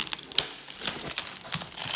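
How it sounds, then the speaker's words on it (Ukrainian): Plastic parcel packaging crinkles and tears as a box is opened for unboxing, a quick run of sharp rustles and crackles up close, with no talk. "Так що відкриваємо коробку."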